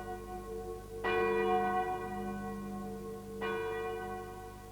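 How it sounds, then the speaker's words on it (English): Two resonant strikes of a bell hung from a tripod, several seconds apart, each ringing out and slowly decaying over a low steady hum. "they hung the bell from a tripod and rang it every hour"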